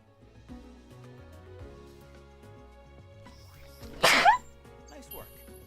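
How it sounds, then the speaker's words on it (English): One sharp, loud sneeze bursts out suddenly partway through, set against a person's quieter voice and a soft, steady background. "I feel a sneeze."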